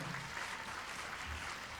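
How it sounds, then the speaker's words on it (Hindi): Applause from the audience at a charity music evening and awards night, a steady, fairly faint wash of many hands clapping with no break, heard from some distance. "मैं चाहूँगा कि ज़ोरदार तालियां बजाई जाए"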